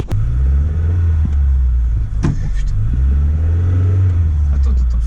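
A Volkswagen Polo Mk1 engine rumbles loudly from inside the car while driving and accelerating, a deep, steady drone with a brief dip partway through.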